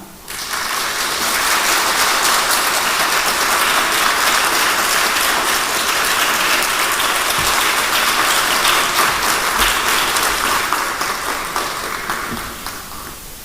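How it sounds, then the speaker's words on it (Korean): A church congregation at a 70th-anniversary special dawn prayer service at Yeongju Church gives sustained, dense applause to welcome the pastor. The clapping swells quickly, holds steady and loud for over ten seconds, then tapers off. "우리 큰 박수로 맞이합시다."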